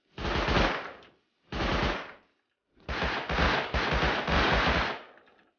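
In the survival game Rust, a machine gun fires in three long automatic bursts, loud and close, the last one the longest, with no voices.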